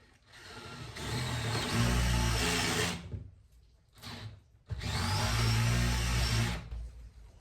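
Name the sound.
drilling a countersink into wood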